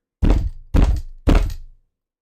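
Three heavy, evenly spaced thumps ring out loudly and alone in a Resident Evil video game cutscene, each a deep booming impact that decays briefly.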